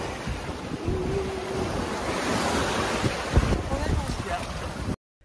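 Wind and ocean waves rushing around a sailboat at sea during an Atlantic crossing, a loud continuous roar of surf and gusting wind buffeting the microphone, with a thump midway, cutting off abruptly at the end.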